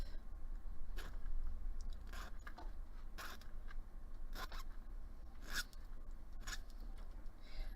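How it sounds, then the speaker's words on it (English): Metal hand file rasping across the cut end of jewelry wire to square the bottom and round off corners, heard as a run of short, close scraping strokes in an irregular rhythm over faint background hiss. "I'm just going to use my file to even out the bottom and knock off my corners"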